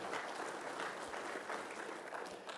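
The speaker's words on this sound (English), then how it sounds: "please give them a round of applause." An audience at a high school sports association meeting claps steadily, a dense patter of applause that holds at a consistent level from start to finish.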